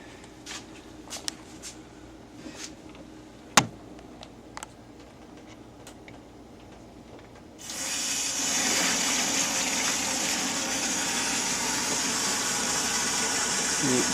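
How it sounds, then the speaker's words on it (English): Faint clicks and taps, then a steady rushing gush of water pumped through a tube into a seed sprouter reservoir, filling it and continuing loudly to the end. "You can see right now the water's starting to go in, starting to fill up."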